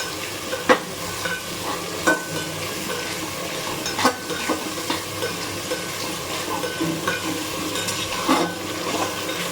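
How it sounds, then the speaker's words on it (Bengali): Ginger, garlic and cumin paste frying in a pan for a country-chicken curry, with a steady low sizzle and sharp scrapes and knocks of a spoon stirring it at irregular intervals. Close and fairly loud; no voices. "এখন আমরা এই যে আদা রসুন জিরে পেস্টটা দিয়ে দেব। পেস্টটা দিয়ে দিলাম, দিয়ে এবার ভালো করে কষিয়ে নেব।"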